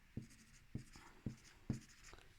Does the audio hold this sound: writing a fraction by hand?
yes